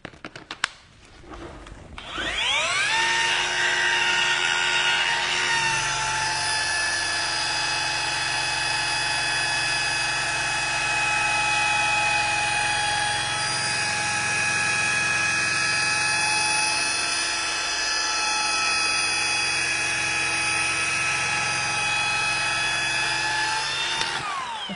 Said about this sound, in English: I'm wet sanding and buffing out this Safari because it showed up here all original